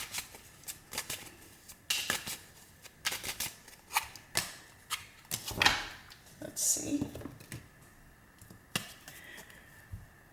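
Tarot cards being shuffled by hand in a series of soft riffling and flicking bursts with short pauses, close by and fairly quiet, while a person talks over them.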